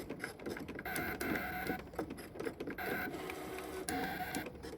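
A Brother ScanNCut cutting machine working, giving a busy whirring with rhythmic mechanical bursts and pauses as the carriage moves, close and fairly quiet, with no talking.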